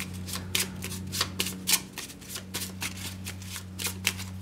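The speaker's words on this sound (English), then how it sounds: "So we'll shuffle the treasure deck." A HeroQuest treasure card deck being shuffled by hand: a quick, regular run of crisp riffling bursts with a short pause near the middle, over a faint steady hum.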